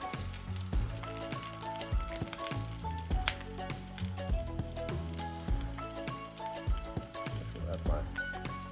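Freshly crushed garlic pieces fry in a pan with lamb and pork kebabs, giving a steady close sizzle with soft crackles that runs throughout, under a layer of tonal background sound.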